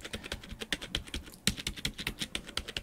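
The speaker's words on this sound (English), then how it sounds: "Put it right next to the keyboard. So right there, it's not a noisy keyboard." Rapid typing on a Klim Chroma V2 wireless keyboard, a quiet but tactile and springy board, gives close, steady clicks and taps in an irregular run of keystrokes with no talking.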